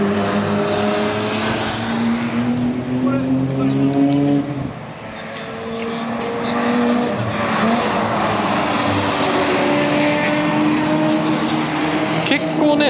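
Onboard engine of a light formula race car on the main straight of the 2.4 km Sodegaura circuit: a loud, steady droning engine note with rising and falling pitch, heard under continuous talk.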